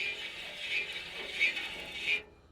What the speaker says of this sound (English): and you give it a couple cranks.